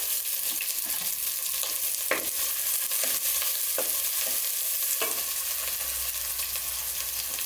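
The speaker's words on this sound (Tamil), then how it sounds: "இப்போ நான் கட் பண்ணி வச்சிருக்க வெங்காயத்தை சேர்த்துக்கிறேன்." Chopped onions hit hot oil for a mutton kulambu and keep up a dense, even sizzle. A spoon stirs them in occasional knocks and scrapes, and no one speaks.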